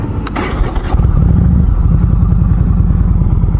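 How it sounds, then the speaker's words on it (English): An old Indian motorcycle engine cranks briefly and catches, then settles into a loud, close, steady idle thump that keeps a regular beat to the end. "Let's crank up the old Indian here."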